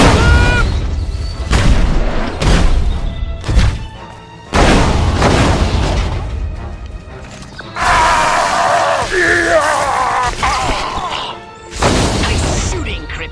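Booming blasts and sharp gunfire bursts from the sci-fi alien game Destroy All Humans, with the alien Crypto firing in a city. Repeated heavy impacts arrive in uneven clusters over a dense bed of effects and tonal score.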